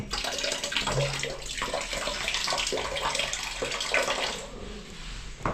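Water gushes from a tap in a bathroom comfort room, a strong continuous splashing flow that stays close and steady before easing slightly near the end.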